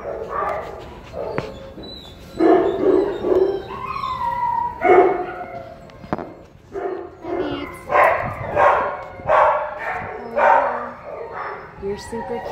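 Several small dogs bark and yip in kennels, repeated bursts of close, fairly loud barking with short whimpers between, while a person talks over them.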